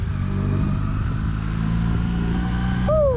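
A vintage Honda CB450 motorcycle pulls away from a gas station, its engine running steadily close by with a brief rising whine near the end and no talking.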